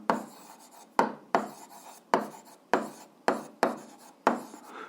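A pen writes a maths problem on paper in a series of scratchy strokes, each beginning with a sharp onset and then fading, close and fairly quiet, with no voices.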